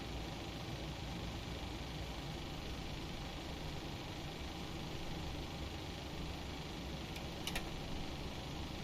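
Airliner jet engine spooling up during engine start in the Prepar3d PMDG flight simulator game: a steady, broad roar with a low rumble, constant and fairly quiet throughout, with faint brief clicks near the end.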